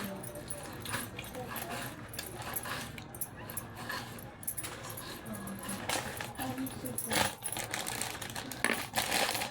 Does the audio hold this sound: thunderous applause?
no